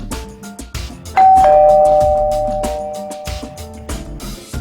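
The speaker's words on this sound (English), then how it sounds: "Her doorbell rang." A doorbell chimes once, clear and fairly close, its tone ringing out and slowly fading over a faint background with soft music-like pulses.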